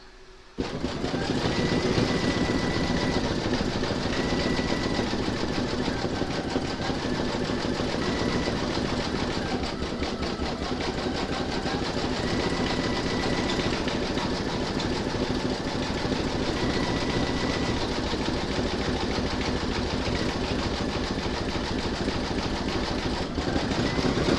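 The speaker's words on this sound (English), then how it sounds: "stitch round number 7, and that's going to zigzag around the edge, and then it's going to do the satin stitching over the top" Embroidery sewing machine running steadily, zigzag then satin stitching the edge of a shamrock pot holder, a continuous loud mechanical whir with rapid needle chatter throughout, no voices.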